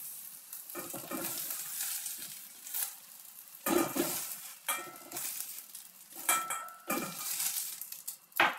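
Scrambled eggs and tomatoes stir-frying in an oiled pan, a continuous sizzle broken by repeated scrapes and clinks of a utensil against the pan, close up and with no talking.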